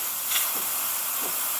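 A Delonghi Magnifica coffee machine sends out a continuous, fairly quiet hiss of running steam, steady with slight swells, and no voices over it.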